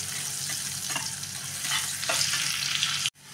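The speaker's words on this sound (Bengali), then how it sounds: "এবার পেঁয়াজ কুচিটা আমি একটু লাল লাল করে ভেজে নেব।" Chopped onion fries in oil in a home kitchen pan, a steady close crackling sizzle with occasional stirring scrapes, ending abruptly.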